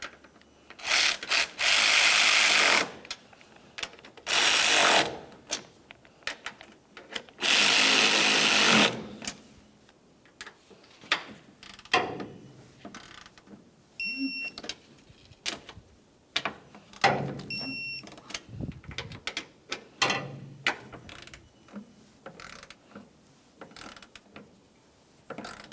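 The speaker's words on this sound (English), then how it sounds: "let's continue on by snugging up each of our mounting nuts up here" A hand ratchet snugs the front strut mounting nuts on a 2010-2013 Ford Transit Connect, heard as three loud, close bursts of rapid clicking separated by quieter gaps with faint scattered clicks.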